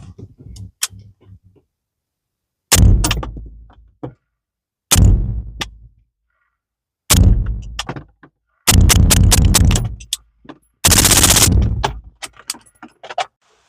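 Shots from a 5.56 rifle fitted with a Rugged Razor suppressor crack out one at a time, then in quicker strings, loud, sharp reports with short decaying tails separated by silence, picked up by an external mic.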